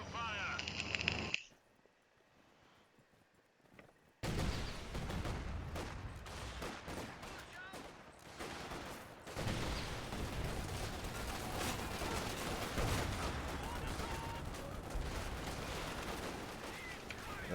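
Artillery fire in Company of Heroes arrives after a brief near-silence, loud booming shell blasts and crackling gunfire packed into a dense, continuous battle din with a voice talking over it.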